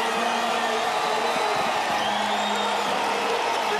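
Basketball arena crowd at an NBL Championship finals game in the closing minute, a loud continuous roar of cheering and whooping that fills the space without letup.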